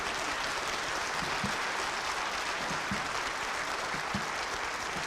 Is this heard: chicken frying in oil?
no